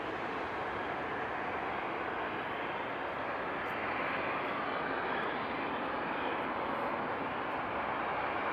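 A small cargo plane takes off at Frankfurt Airport at night, its engines a steady, broad distant roar that holds level throughout with no talk.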